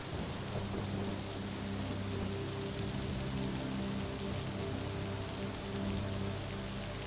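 Steady rain pours down on a warm night, a dense even hiss with low rumbling thunder rolling beneath it throughout, no voices present.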